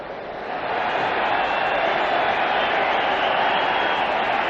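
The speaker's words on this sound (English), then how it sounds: "there's a large crowd here today, and they're waiting expectantly for the start of play" A large cricket stadium crowd in a cricket video game hums as a steady, broad roar of distant murmuring spectators, even and unbroken throughout, with no distinct cheers.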